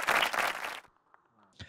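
Audience applause at a singing audition show, a dense burst of clapping for under a second that cuts off abruptly into near silence with a few small stray sounds.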